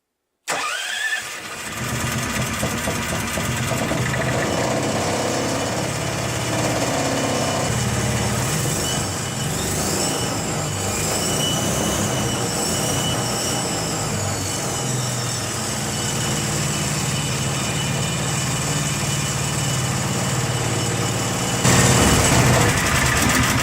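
A Coot all-terrain vehicle engine fitted with a new carburetor starts up and then idles fast and steady at close range, a continuous loud mechanical drone with no talking over it.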